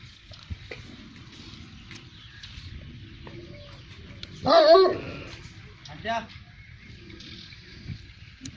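On a rural Punjab farm in Pakistan, a dog gives one loud, harsh bark burst followed by a smaller yelp, over faint background hum.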